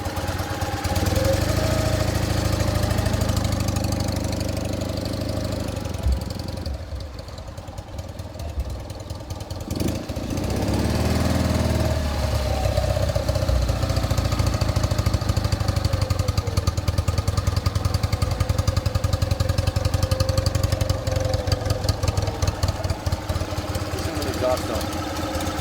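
A 1963 BMW R50S motorcycle engine rumbles steadily at close range, its deep exhaust note briefly dropping in the middle before returning to a strong, even idle.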